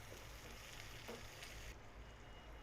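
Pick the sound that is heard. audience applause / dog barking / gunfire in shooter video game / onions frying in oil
onions frying in oil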